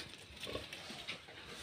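A sow that has just given birth to healthy newborn piglets lets out short, low grunts at close range, a brief burst of snuffling animal noise.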